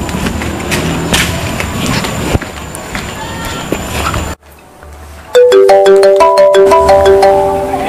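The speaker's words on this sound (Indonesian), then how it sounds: "Ini siapa dari tadi kok nelpon" An incoming call on a mobile phone: a melodic ringtone begins loud and repeats steadily, after footsteps and background noise, with brief voices in the scene.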